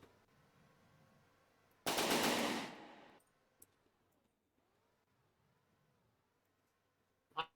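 Ship guns in the video game From the Depths let loose one loud, dense burst of rapid fire lasting about a second before fading, followed by quieter mechanical hum, a faint click and a short second burst at the end.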